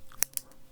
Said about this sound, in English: going to be producing some pen clicks